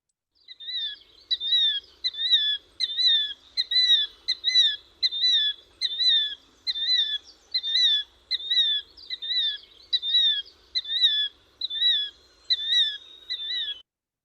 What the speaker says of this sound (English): If you get anywhere, near it, it will often just get up and start calling,